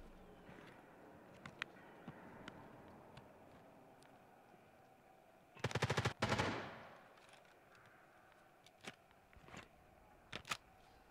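An M4A1 rifle fires in a video game match, a tight rapid burst of automatic shots standing out over quiet background clicks and scattered faint single pops.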